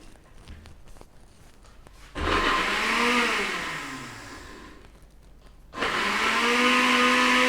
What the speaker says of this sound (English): Let's get right into blending, guys, okay?